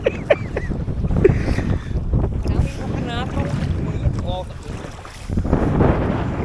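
Wind gusting across Gwynant Lake in North Wales during a kayak outing, a steady broadband rush that swells and fades, with people talking over it and brief bird-like chirps.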